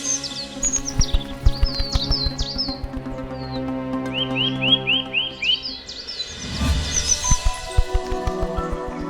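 Cartoon birds chirp and tweet in quick, bright rising trills, several calls overlapping, over a soft backing score with a short rustling swell near the end.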